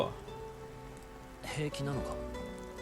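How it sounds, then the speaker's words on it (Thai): Steady rain falls in Final Fantasy VII, a continuous hiss of drops spread across the whole span beneath game music, with a brief brighter burst of effects partway through. "โอ้ดูสิ ฝนตก"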